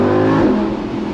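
Lamborghini Huracan Spyder with four-wheel drive, dropping down into first gear: its engine roars loud and close in a steady, rising rev with no talk over it.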